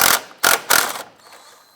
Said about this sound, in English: Using a 12mm socket and extension, we're going to go ahead and remove these 3 nuts on top of the strut.